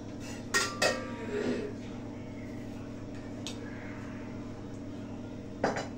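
Metal lid set onto a cooking pot of simmering paneer masala in a home kitchen, a couple of clanks and clinks near the start, followed by a quiet stretch and one more metallic knock near the end.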